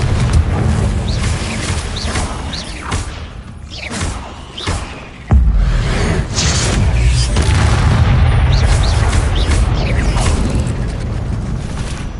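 A Confringo fire spell cast in Hogwarts Legacy erupts as a loud, deep boom with a sudden blast midway, followed by a sustained rumbling roar and scattered crackling game effects, with no talking.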